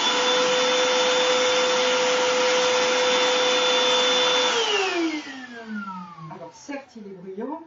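Black+Decker PV1820L 18 V cordless handheld vacuum cleaner running loudly and steadily up close with a high whine, then the motor pitch drops as it spins down and switches off.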